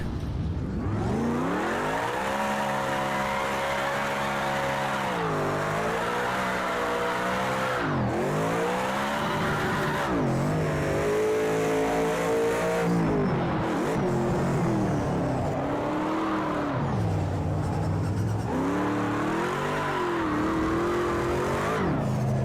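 A drift car in Project CARS 2 with a ProComp drift mod revs hard and continuously, the engine note rising and falling loudly through throttle changes and corners, with a faint tire squeal.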